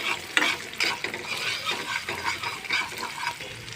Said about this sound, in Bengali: এখন আমি ডিমটাকে ভেজে নিব